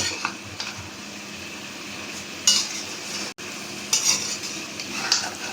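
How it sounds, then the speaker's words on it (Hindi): Spiced mutton being stirred and mixed in a pot, cooked in desi ghee: a steady soft frying hiss under scraping spoon strokes, with a few louder stirring swishes and clinks, close and continuous, no talk. "बढ़िया से चला के एकदम मिक्स कर लेना है।"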